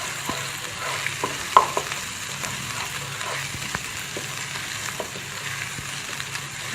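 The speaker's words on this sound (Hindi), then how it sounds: "इसको थोड़ा सा मैं भूनूंगी ऑयल के साथ" Ginger garlic paste fries in a tablespoon of oil with a soft continuous sizzle, dotted by small pops and one sharper tick, close but fairly quiet.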